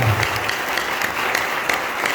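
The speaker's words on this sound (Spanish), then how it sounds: "Démosle ofrenda de palmas al Padre, al Hijo y al Espíritu Santo." Church congregation clapping together during a Sunday school worship service, a dense steady wash of many hands applauding throughout, loud and close, with a low voice briefly audible at the start.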